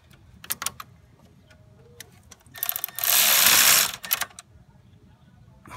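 A 13 mm ratchet tightens the camshaft synchronizer bolt on a 2000 Jeep 4.0, giving sparse clicks followed by a short burst of rapid, loud ratcheting and a few final clicks in a quiet garage.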